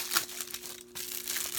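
Plastic wrap crinkles and crackles faintly in short handled bursts as a Blu-ray case is unwrapped, close and quiet with a steady faint hum underneath.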